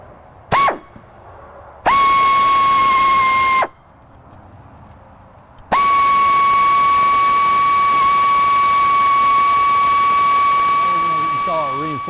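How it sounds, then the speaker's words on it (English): A drill with a 1/8 inch bit bores through the body panel of a 2014 Dodge crew cab short bed truck, giving loud, steady high-pitched whining bursts, one brief, then a two-second run, then a long continuous spin. "now you'll come back with a 1/8 drill bit"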